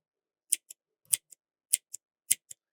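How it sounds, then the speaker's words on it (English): Scissors snip embroidery threads close by, quiet crisp paired cuts repeating four times in an even rhythm against near silence. "Just kind of trim all these out of the way."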